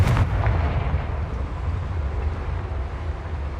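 A Confringo blasting spell bursting in Hogwarts Legacy, one loud close boom with a sharp onset that fades into a long low rumble.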